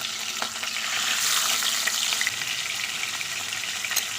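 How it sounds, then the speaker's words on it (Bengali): Pomfret fish fry in hot mustard oil in a kadai, making a steady, close, loud sizzle with scattered crackles and pops. "কড়ার মধ্যে দিচ্ছি সর্ষের তেল মাছগুলোকে ভালো করে ভেজে নেব"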